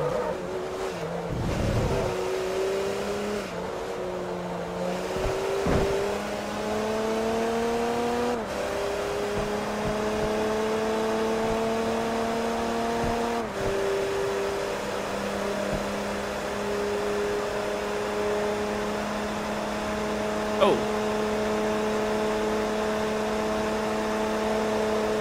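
Race car engines in Forza Motorsport 3 racing against a Peugeot, a steady close engine drone that rises in pitch through each gear and drops at the shifts, with several upshifts over a continuous run and no talk.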